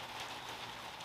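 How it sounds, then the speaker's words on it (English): Rain begins to fall outdoors in a garden where pomegranate trees are being dug, a faint steady patter of drops on surfaces with no voices. "as you probably can hear, it was about to start to rain"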